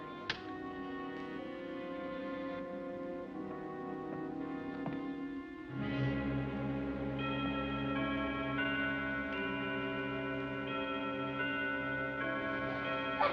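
An old clock in a house from the 1959 film The Bat ticks steadily over a sustained musical score, the ticks soft and partly buried beneath the music.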